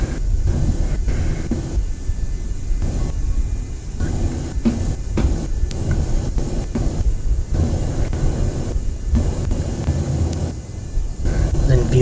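A jet's takeoff roll in Microsoft Flight Simulator 2020 plays as a loud, continuous engine roar and rumble that never stops, while voices talk over it.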